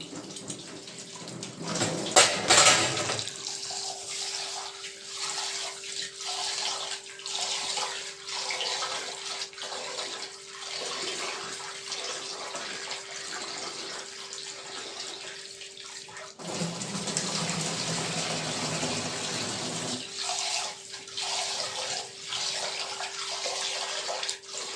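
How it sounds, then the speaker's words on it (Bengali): Rice being washed by hand in water in a home kitchen: running water splashes, then a steady swish and slosh of grains being rubbed and stirred, close and fairly loud, with a second pour of water midway and no voices. "চাল ধোয়া হয়ে গেছে"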